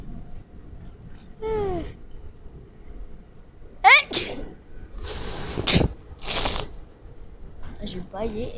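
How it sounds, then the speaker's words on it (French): A person yawns and sneezes at the same moment, producing a few sharp, breathy nasal bursts close to the mic against a quiet room background, with brief vocal sounds around them. "J'ai baillé et en même temps"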